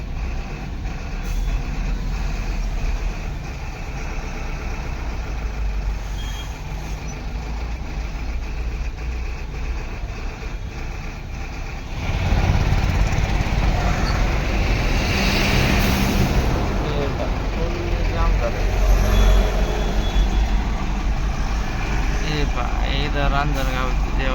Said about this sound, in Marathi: फुल ट्रॅफिक जाम मंडळी,